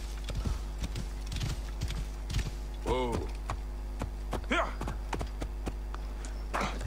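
Horse hooves clip-clop steadily in the Assassin's Creed Origins video game, with a whinny and creaking tack over a constant low game-engine hum, near and moderately loud, with no talk.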